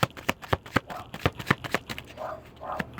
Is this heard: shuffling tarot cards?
yes